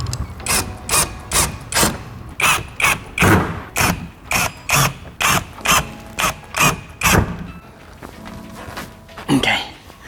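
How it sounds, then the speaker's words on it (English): Power driver repeatedly drives body kit screws into a Tesla Model Y, giving a regular run of short ratcheting bursts, close and clear, with brief speech near the end. "We'll start from here in the middle, drill it, screw it all in"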